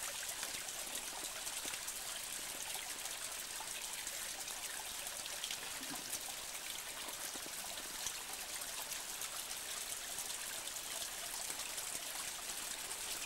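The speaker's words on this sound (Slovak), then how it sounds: "teraz máme pravdepodobne ten najväčší vodopádik" A waterfall in a wild mountain gorge gives a steady, broad rushing hiss of falling water, constant and unbroken throughout, moderately loud with no voices.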